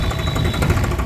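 A New Holland 3630 tractor with an inline injection pump idles steadily nearby, a continuous low diesel rumble with slight knocking vibration and no talk.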